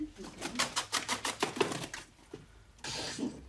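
Birds just herded back into their enclosure call in a rapid series of close, rhythmic notes, followed by quieter rustling and a burst of broadband noise near the end.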